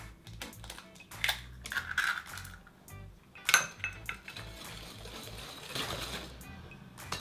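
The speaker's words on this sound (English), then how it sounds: "just whisk it until it tightens slightly and comes together in a more uniform mass" A whisk beats eggs into chocolate chip cookie dough in a bowl, producing irregular scraping and clinking strokes against the bowl's sides, with a couple of sharper knocks and quieter stretches in between.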